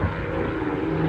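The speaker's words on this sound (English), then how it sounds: "And here's some planes flying in formation." Propeller airplanes flying in formation at the Oshkosh AirVenture airshow, a loud, steady droning engine roar with a low humming tone and no voices.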